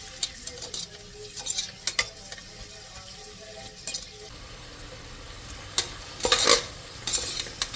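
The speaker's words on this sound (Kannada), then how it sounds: "ಆನಿಯನ್ಸ್ ಬ್ರೌನ್ ಆಗೋ ತನಕ ಫ್ರೈ ಮಾಡೋಣ" Onions sizzle gently in a pan for ghee rice, frying until brown, while a spoon scrapes and clinks against the metal in scattered bursts, growing busier toward the end.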